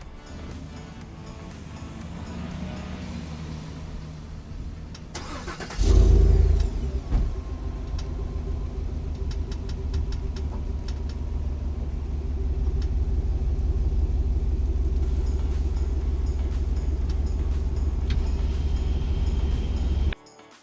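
A truck engine idles at close range, then rumbles louder and steadies as the vehicle creeps forward up onto service ramps. No one speaks over the continuous engine drone.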